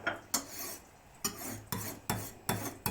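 A large knife stroked against the rough unglazed rim on the underside of a ceramic plate, giving five or six separate gritty rasping scrapes in a steady rhythm, close and fairly quiet with no talk.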